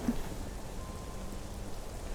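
Steady rain falls in the video game Black Desert Online, a constant soft hiss of droplets with no distinct thunder, and nobody speaks.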